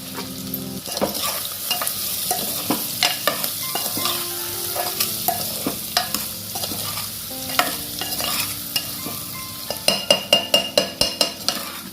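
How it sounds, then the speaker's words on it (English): Potatoes sizzle steadily frying in a pan while stirred and scraped. A quick run of sharp metallic clinks comes near the end. "I want you to fry it."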